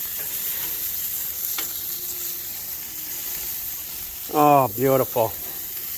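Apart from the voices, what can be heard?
chorizo brats sizzling on a grill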